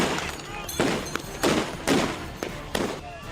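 At a street protest, police fire tear gas shells into a crowd of protesters: about six sharp bangs crack out at uneven intervals, each followed by a brief echoing tail over a noisy crowd background.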